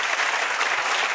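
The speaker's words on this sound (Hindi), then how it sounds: "ताली जोरदार बजाओ" Audience applause, an unbroken wash of dense clapping at steady loudness, with no voices heard over it.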